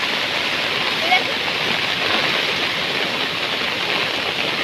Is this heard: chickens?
no